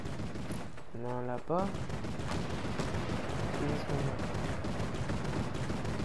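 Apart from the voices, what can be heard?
gunfire from the video game Fortnite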